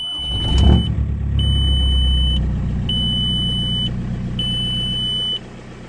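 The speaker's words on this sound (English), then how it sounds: "Let me start the engine." A Seat Ibiza engine cranks and catches with a rumble, then settles into a steady idle while a high electronic beep repeats at regular intervals, an airbag warning after racing seats were installed.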